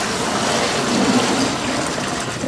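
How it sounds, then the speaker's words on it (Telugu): A strong, steady rush of about 20 litres of water pours into a container, loud and continuous without a break. "సుమారుగా 20 లీటర్ నీళ్ళు, సుమారు 20 లీటర్స్ నీళ్లు పోస్తాను."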